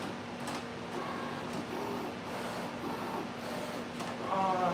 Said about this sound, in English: I have to send a thing to the Cricut.